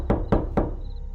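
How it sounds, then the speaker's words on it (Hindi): Three firm knocks on the wooden door of a hut at night, evenly spaced and close by, followed by quiet. "तभी अचानक झोपड़ी के दरवाजे पर किसी ने दस्तक दी।"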